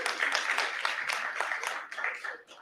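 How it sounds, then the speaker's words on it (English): Crowd applause and clapping at a film festival's tenth anniversary launch event, a dense, steady patter of many hands that stays fairly loud before thinning slightly toward the end. "Big round of applause."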